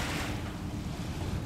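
Waves wash steadily on the Lake Michigan shore, a continuous broadband surf roar mixed with heavy wind buffeting the microphone, no voices.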